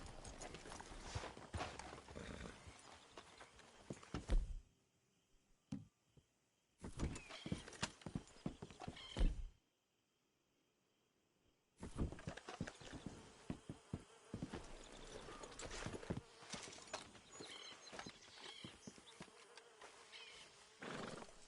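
Horses walking with hooves clip-clopping close by in an irregular rhythm, broken by two short silent gaps, with buzzing insects around them.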